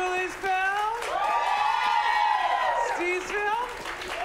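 An improv comedy audience claps and cheers in a burst of applause, rising and then fading, with a voice carrying over the crowd noise.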